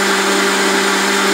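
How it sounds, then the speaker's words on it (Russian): An Aikok blender running at full speed, making a loud, steady, close whirring hum that stays constant throughout with no pauses or voices. "Выручает блендер Айкок"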